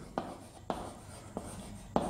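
A pen writes chemistry notes on paper, close and faint, with four brief scratchy strokes spaced fairly evenly and quiet room background between them.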